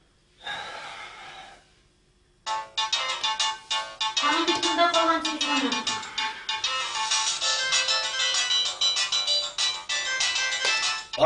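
A phone ringtone plays steadily and fairly loudly for several seconds, following a sharp gasp and breathing at the start.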